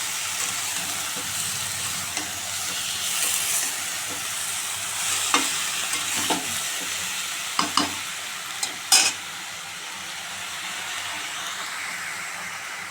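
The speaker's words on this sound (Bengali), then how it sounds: "ভালো করে নেড়ে তরকারিটা ঢাকা দিয়ে দেবো" A vegetable curry with turmeric is stirred in a hot pan, giving a continuous soft sizzle and hiss with several sharp clicks and scrapes of the spatula against the pan, and no talking.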